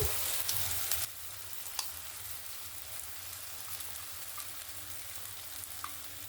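Soaked poha hits a pan of fried onion, tomato and green chilli. A louder burst of sizzling comes first, then steady, softer frying with occasional light stirring clicks and no voices.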